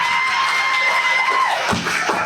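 At a Barbados Workers' Union conference, an audience breaks into loud applause mixed with cheers, whoops and shouts, a thick crowd roar that holds steady and swells near the end.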